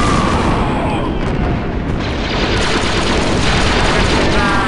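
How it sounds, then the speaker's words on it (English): A charge detonates a bunker in Star Wars Republic Commando amid dense, continuous roaring blasts and booming artillery-like gunfire, loud and sustained throughout. "The charge is set and ready to detonate."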